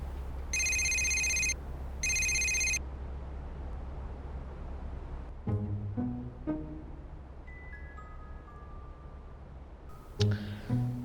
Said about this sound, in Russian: Лера, позвони ему, а?